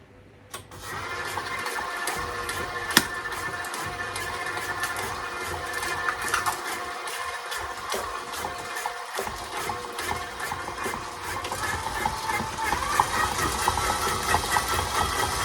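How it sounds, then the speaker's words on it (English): An electric stand mixer whirs steadily while beating creamed butter and sugar as eggs go in one at a time for sourdough muffins, a close continuous motor drone with slight rises in pitch and intensity, no voices over it. "So in my mixer, I've already got our butter and sugar creamed. So we're going to go ahead and add our eggs one at a time."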